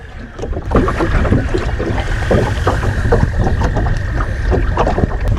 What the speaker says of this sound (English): That marsh back there, or that swamp, is filled with frogs. Those are all frogs.